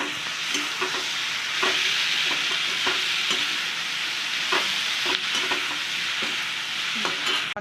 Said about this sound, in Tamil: நல்லா பெரட்டி விட்டு நல்லா வதக்கிடலாங்க.